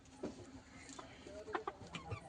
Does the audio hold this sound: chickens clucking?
yes